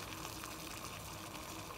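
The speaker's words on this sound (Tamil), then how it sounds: "கொதிச்சுட்டுருக்க நான் அடுப்பு ஆஃப் பண்ணிடுறேன்." Water bubbling at a steady simmer in a pot on a stove, a soft, continuous, faint churning with no talk.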